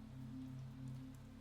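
Steady rain falling on a bus at night, a soft even patter over a continuous low engine hum, faint and unbroken.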